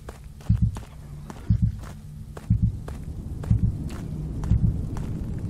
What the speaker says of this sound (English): Nope, heartbeat is not going faster.